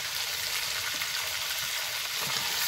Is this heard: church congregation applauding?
no